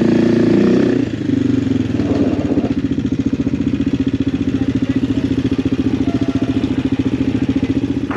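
A Yamaha XT motorcycle rides over a rough road in Portugal, its engine note steady and loud close to the mic, with a rapid pulsing clatter from the rough surface running throughout.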